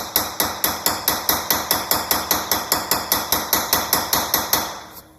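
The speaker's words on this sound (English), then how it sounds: "But what I like to do is just kind of tap along." About twenty quick, evenly spaced metallic hammer taps knock lightly on an engine part to loosen it during a valve adjustment. Each tap rings briefly, close and alone.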